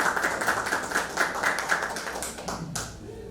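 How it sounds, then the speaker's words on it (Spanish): Audience applause welcomes Doctor Fernando Carbone at a law colloquium in Lima, a brief burst of moderate clapping from a room of people that gradually fades. "Doctor Fernando Carbone, un fuerte aplauso para recibirlo."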